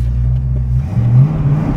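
A 1979 Cobra's upgraded exhaust rumbles loudly and deeply up close, a classic Fox-body Mustang sound, swelling briefly as the engine revs while driving.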